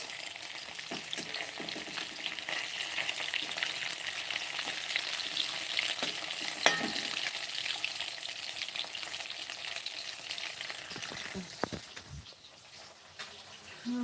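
Hilsa fish frying in a pan, a continuous close sizzle with occasional pops and a few utensil taps, going on steadily with no talk.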